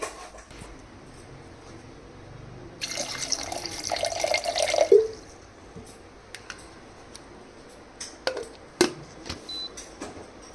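Drinking water pours into a blender jar holding almonds, a broad splashing rush for about two seconds midway, with scattered small clinks and drips before and after.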